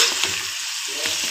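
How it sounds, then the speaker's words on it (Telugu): Native country chicken frying in a pan while being stirred, a steady close sizzle with soft scraping of the spoon, no talk. "చికెన్ని మధ్య మధ్యలో కలుపుకుంటూ 20 నిమిషాల వరకు వేయించాలి"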